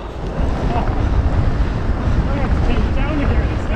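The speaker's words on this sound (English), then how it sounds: "as you can probably hear, the wind is mental" Loud, steady wind roars and buffets the microphone, a dense rushing noise with no letup for the whole stretch.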